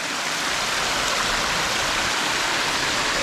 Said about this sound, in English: So this is the waterfall we're dealing with.